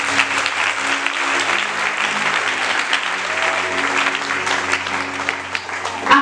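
A church congregation claps and cheers steadily throughout, in loud, dense applause that fills the room with a few voices rising within it, during a Holy Spirit week service.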